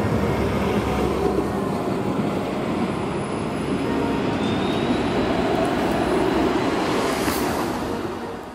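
A Toronto TTC streetcar on Bathurst Street near Harbord Street, a loud, close, continuous rumble and hiss of the car and its motors, with a brief faint high squeal, fading slightly at the end.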